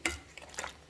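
Chili sauce being stirred into aguachile, a brief close scrape and slosh of a spoon mixing the sauce, alone with no talking.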